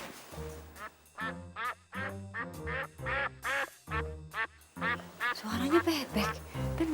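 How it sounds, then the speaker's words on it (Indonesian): Ducks heard indoors at a house, a run of quacks in quick uneven bursts, close and fairly loud, with voices talking in between. "Suaranya bebek. Bener."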